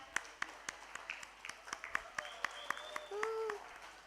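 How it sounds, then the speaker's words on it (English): Sparse, quiet clapping from an audience at the Miss World Bangladesh 2026 event comes in distinct, spaced claps over a faint background of voices and tonal calls. "Please give a huge round of applause,"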